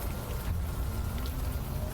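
Rain ambience in the video game Unavowed: a steady, close wash of falling rain with soft pattering hits, continuous and even, with no speech.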